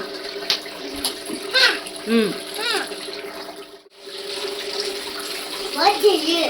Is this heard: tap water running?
yes